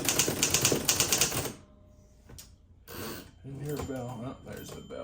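A Mystery-Riter typewriter being tested after unboxing: a dense burst of rapid key strikes, then a pause, a sharp mechanical clack and more carriage and key noise, close and fairly loud, with a voice talking partway through.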